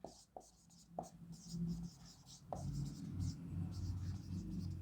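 Chalk or marker taps and strokes on a board during a math lesson, with a few sharp knocks and scratchy writing strokes under quiet background rumble.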